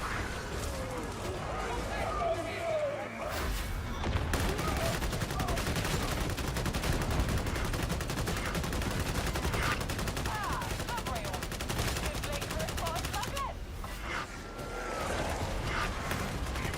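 Sustained bursts of gunfire in the video game Darktide, dense and continuous throughout, mixed with game effects and people talking over the shooting.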